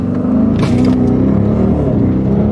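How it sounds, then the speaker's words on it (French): A luxury sports car engine roars loudly up close as it launches and accelerates hard at full throttle, with a burst of hiss or tyre noise in the first second. "appuie sur l'accélérateur à fond, voilà, et vas-y, lâche le frein"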